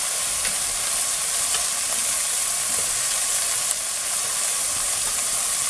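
Onions fried soft in a pan sizzle steadily with spices just added, a dense, even hiss that carries through without pause and with no talking.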